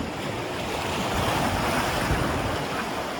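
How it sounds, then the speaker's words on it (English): Ocean waves break continuously along the shore at Rockley Beach, Barbados, beside a boardwalk, a loud, steady wash of surf with some wind noise and no distinct gaps. "you will hear the soothing sound of water gently crashing along the shore for days and nights."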